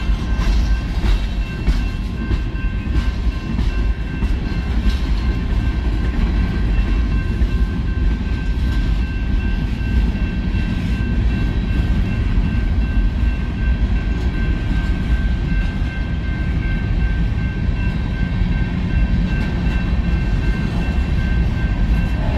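A CSX freight train passes steadily around Nashville, its rumble and rail noise loud and continuous throughout with a faint high tonal squeal, no talk over it.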